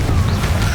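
A Confringo blasting spell cast in Hogwarts Legacy, giving a brief, heavy, booming blast with crackling impact noise, loud and close.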